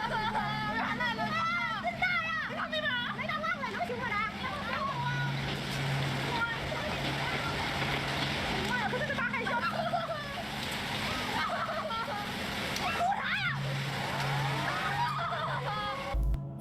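Tsunami floodwater splashing and sloshing through the flooded town of Onagawa in played footage, a steady wash of water under crowd babble and excited voices throughout.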